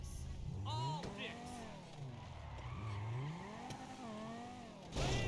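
A car engine in GTA revs and climbs in pitch, rising and falling repeatedly with brief tire squeals, while someone talks over it.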